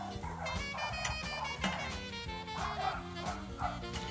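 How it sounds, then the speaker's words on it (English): Dogs near a backyard grill yip, whimper and bark excitedly in quick, uneven bursts at close range, with a person's voice mixed in among them. "those dogs go crazy"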